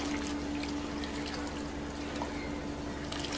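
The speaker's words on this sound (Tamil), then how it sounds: "இப்போ தண்ணியை ஊற்றி நல்லா அலசிக்குவோம்." Steady running water pours continuously to rinse rose petals, like a tap filling a sink, with a constant hiss and a low hum underneath.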